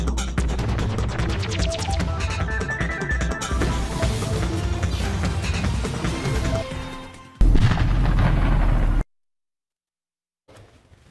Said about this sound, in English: Deadly chain reaction crash on a highway in Ohio leading to an explosion.